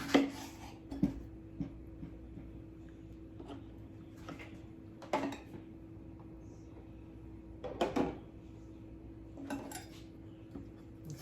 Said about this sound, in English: I found this huge apple that I am going to slice up some and put it in here